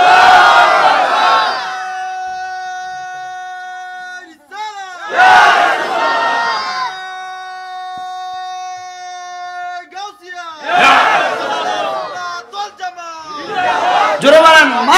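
A large crowd at a Bangla religious gathering loudly chants takbir in repeated bursts, voices swelling together in unison, with a steady sung tone and a lead voice heard between the chants.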